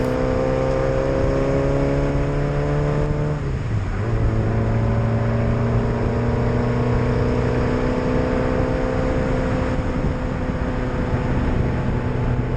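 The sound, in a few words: car driving on a race track, recorded from Dave's car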